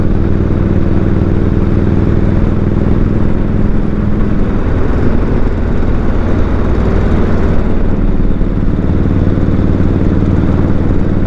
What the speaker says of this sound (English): come see some riding up here in these mountains on a motorcycle